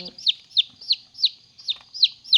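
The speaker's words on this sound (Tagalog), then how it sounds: "Ayan po ang ating 11 na newly hatched chicks." Eleven newly hatched, day-old chicks in a cut-down blue plastic gallon container peep in a steady series of seven high, sharp calls, evenly spaced and close, with no talking.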